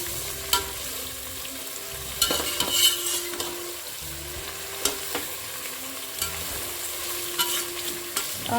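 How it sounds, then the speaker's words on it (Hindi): Chicken curry masala with onions sizzles and fries in an open pan over a high flame, with a spoon stirring and scraping at intervals and a soft, steady crackle between strokes. "इसे हम अच्छे से हाई फ्लेम पे अभी हम इसे अच्छे से भूनेंगे।"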